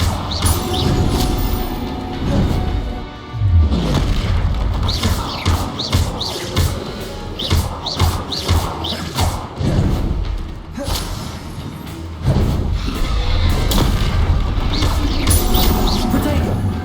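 Spells in Hogwarts Legacy burst and crash one after another in a dense, steady stream of thudding impacts and booms. A voice calls out over the blasts from time to time.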